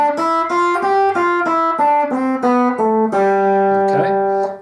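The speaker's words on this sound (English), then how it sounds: "the G Mixolydian scale just sounds like this" A guitar plays the G Mixolydian scale as an even run of clean single notes stepping through the scale, ending on a sustained low note, heard alone and up close.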